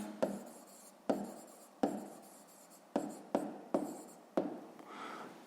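A pen writes on paper during a sixth-grade math exercise, seven or eight separate bursts of close scratching strokes, each starting sharply and fading, with brief pauses between.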